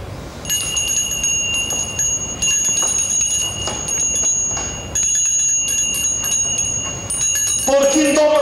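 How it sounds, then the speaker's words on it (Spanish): Church bells ring on in a stage play, bright sustained metallic tones layered over a busy, noisy background, fairly loud and steady with brief dips before a sharper ring near the end. "¿Por quién toman las campanas, Mariano?"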